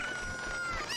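A chicken in the video game Ocarina of Time clucks and crows in a short, bright burst, carried above a steady hum of game music without speech.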